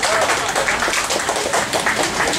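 Steady crowd applause at a rodeo event, dense continuous clapping at an even loudness throughout.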